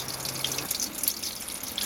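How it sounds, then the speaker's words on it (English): Water drains from the plugs of a PCM EX343 boat engine during winterizing, a short, steady trickling hiss close by with no voices. "just finishing up the draining here on the starboard side"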